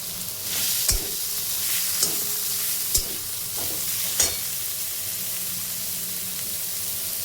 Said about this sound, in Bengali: এখন আমি এর মধ্যে কুচিয়ে রাখা পেঁয়াজগুলোকে ছেড়ে দিচ্ছি।